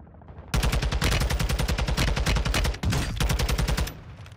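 Rapid automatic gunfire in the online shooter Call of Duty Warzone 2, a loud, close, continuous stream of shots with a brief break midway before the firing resumes and then stops.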